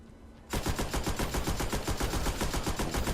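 Rapid, sustained machine gun fire in Destiny: Rise of Iron bursts in after a brief quiet start, a dense, evenly spaced stream of loud shots continuing to the end.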